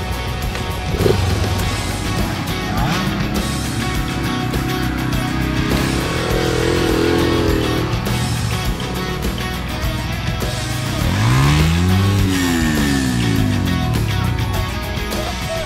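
Motocross motorcycles lapping a small practice circuit with hills, tight corners and berms; engine noise rises and falls as the bikes pass, with a clear revving sweep near the end over steady outdoor rumble.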